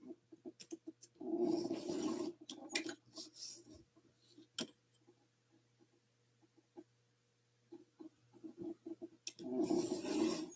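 A blade trims the edges of a leather sheath in two bursts of close, rasping cuts, with quiet pauses and a few isolated clicks in between.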